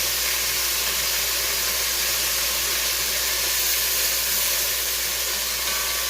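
Oxtails browning in a hot pan give a steady, close, even sizzle that holds at the same level throughout, with no talk.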